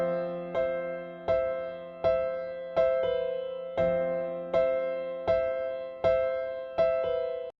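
Afro house chord progression, quantized by hand, plays back as evenly spaced synth chord stabs, about ten regular hits that each decay before the next, clean and upfront with no voices.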